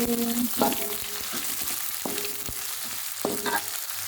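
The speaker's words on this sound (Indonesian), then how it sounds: "Kemudian kita masukkan cabai merahnya juga ditumis ya teman-teman. Aduk lagi" Red chilies stir-fried in a pan for cabbage and egg white curry, a steady sizzle with spatula scrapes and clinks against the pan repeating every second or so, close and fairly loud, no talking.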